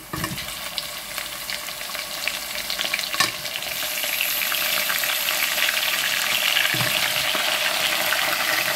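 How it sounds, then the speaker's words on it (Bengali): Beef frying with onions in a hot pan, a steady loud sizzle that grows fuller midway as stirring scrapes through, for a spicy beef curry. "পেঁয়াজটা ভাজা ভাজা হয়ে গেছে, এখন আমি মাংসটা দিয়ে দিচ্ছি।"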